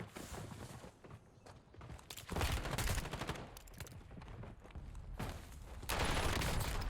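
Gunfire in the video game Warzone comes in several loud bursts of rapid shots, separated by short pauses, with mechanical clicks between volleys.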